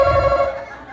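A telephone rings with a steady electronic tone that fades toward the end, close and moderately loud, with low background noise beneath.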